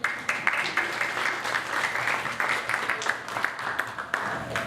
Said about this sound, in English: I'd like to ask for a round of applause for you.